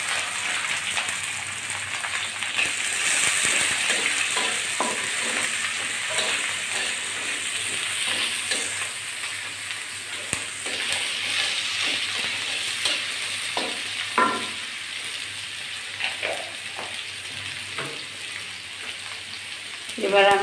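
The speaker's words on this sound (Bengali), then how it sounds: "এবার দিচ্ছি কুচিয়ে রাখা পেঁয়াজ। পেঁয়াজটা একটু বেশি করেই দিতে হবে" Chopped onion being fried with garlic in a pan, a steady close hiss of sizzling oil broken by repeated scrapes and knocks of a spatula stirring, continuing for the whole stretch with no talk over it.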